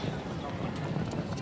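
Horse hooves cantering around a show jumping course at an event rider masters competition, a continuous run of clip-clop footfalls under commentary and crowd ambience.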